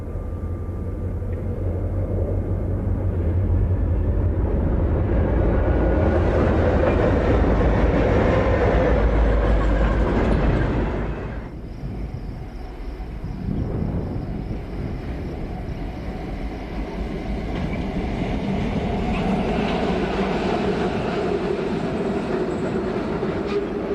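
An eastbound Santa Fe train rolls past near a town depot in New Mexico, a loud rumble of engines and wagons with clickety-clack from the rails that dips briefly and then builds again, with no speech.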